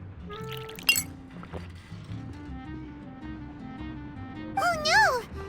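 A bright clink of a glass of juice in the game Genshin Impact, a single sharp ring near the start over soft background music, followed later by a short rising chime.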